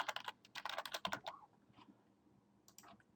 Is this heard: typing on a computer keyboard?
yes